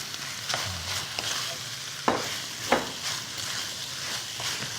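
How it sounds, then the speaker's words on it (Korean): Squid and potatoes stir-fried in a pan for a spicy squid and potato dish, a steady sizzle with a few stirring scrapes and clacks, close by and without voices. "이렇게 볶으신 다음에 여기다가 이제 오징어를 넣어서 마무리를 할게요"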